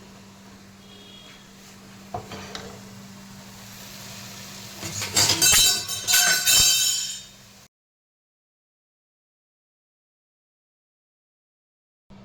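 Chicken cooking in a pot with metal utensils clinking and scraping against the cookware, a few sharp knocks building to a dense burst of clattering before cutting to silence.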